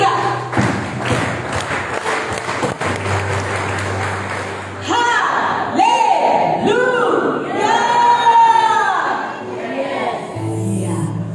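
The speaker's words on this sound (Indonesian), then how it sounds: "Tepuk tangannya bisa lebih keras lagi" Church congregation clapping during a Sunday worship service, a steady crowd of hand claps with cheering voices and music, loud and close throughout.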